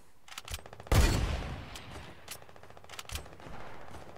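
Gunfire in the video game Fortnite during a Team Rumble match, with a loud sharp burst followed by several quieter scattered shots.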